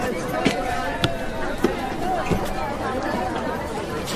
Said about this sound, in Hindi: तुम्हारे पटना में कितनी भीड़ है भाई